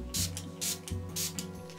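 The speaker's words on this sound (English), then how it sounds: "I like to mist my face with this, and this is from the Body Shop" Body Shop Vitamin E facial mist with rose water spraying from a pump bottle onto a face: three or four short, close hissing bursts in quick succession, each a fraction of a second, alone without talk.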